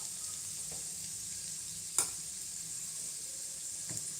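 Garlic sizzles steadily in a hot pan as it fries toward golden brown, a continuous close hiss with a couple of faint stirring clicks and no talking.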